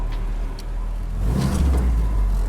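A 1946 Willys jeep moving in four-wheel drive gives a low, rumbling engine drone that swells as it pulls forward on dirt, heard close and loud without talk.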